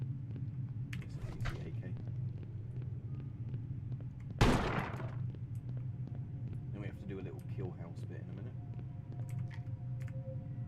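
A single loud AK rifle shot in a grungy mafia video game, a sharp crack with a brief tail rising over a steady low rumble, with faint clicks and scattered noises around it.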